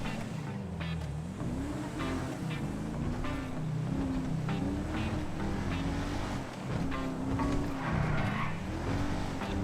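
Car engine in the video game GTA V roleplay revs as the vehicle drives fast, with tire squeals and shifting engine pitch running throughout, fairly quiet and mostly without talk.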